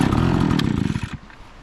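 A Proyama backpack fogger's small two-stroke engine fires on full choke, giving a brief loud buzzing run of about a second before it sputters and dies away.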